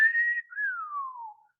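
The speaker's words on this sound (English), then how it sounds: "you want to whistle at them." Pursed-lip whistling, a single clear, loud tone that holds briefly, dips, then slides slowly downward in pitch as it fades out.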